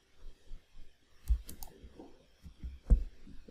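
Sharp, quiet mouse clicks sound in a desktop setting while operating Oracle Linux in VMware, a handful of isolated clicks spaced irregularly over near silence.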